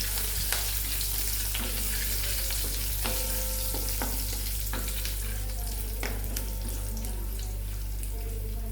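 Cumin seeds and curry leaves crackling in hot oil for a sev onion curry, a dense continuous close sizzle with scattered pops and a few stirring knocks, loud and steady throughout, no voices.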